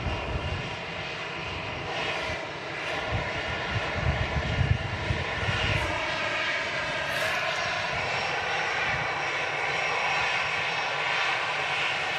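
A Lufthansa Airbus A319 arrives at Manchester Airport, its engines a steady, moderately distant drone with a few faint whines and brief bumps, and no talk.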